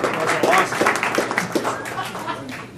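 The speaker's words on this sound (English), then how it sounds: "And so, round of applause for Lockheed." Open house crowd at a Chicago coworking space applauds, with scattered claps, a few chuckles and some chatter mixed in.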